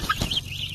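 A Rhode Island chicken gives a brief, close cluck, a short throaty call over faint background noise.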